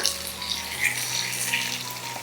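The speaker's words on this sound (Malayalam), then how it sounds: "മീഡിയം ഫ്ലെയിം വെച്ച് കൊടുക്കുക. ഒരുപാട് അങ്ങ് ഫ്രൈ ആവേണ്ട ആവശ്യമില്ല, ജസ്റ്റ് ഒന്ന് കുക്ക് ചെയ്താൽ മാത്രം മതി." Paneer fries in a pan over a medium flame, giving a soft, steady sizzle with faint hissing crackles and no voices.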